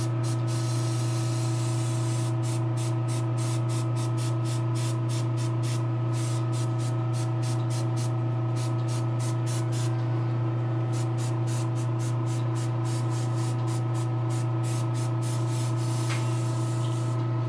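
Garage Kit basic colour paint misted from an airbrush onto a figure, a steady hiss beneath a constant low compressor hum, with quick rhythmic bursts of spray pulsing on and off throughout.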